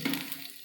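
Chopped garlic hits hot oil in a pan while cooking a boiled chickpea dish, giving a short, close, steady sizzle with a brief stirring scrape and a small burst near the end.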